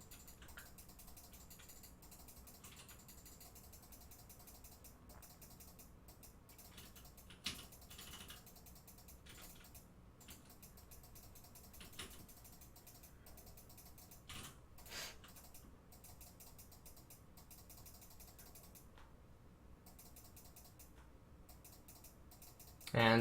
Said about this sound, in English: That's not me clicking, that's the Korean Challenger player behind me.